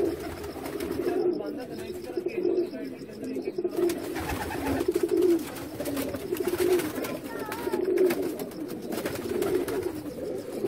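Pigeons cooing on a rooftop where a keeper's flock is kept, a repeated low rolling coo pulsing steadily through the whole stretch, with occasional faint chirps and background noise.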